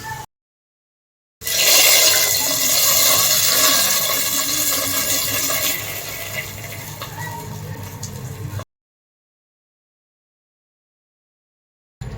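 Hot tempering poured into a fish curry (meen kuzhambu) on a switched-off stove, making a loud, sustained sizzling hiss that runs for several seconds and then cuts out abruptly.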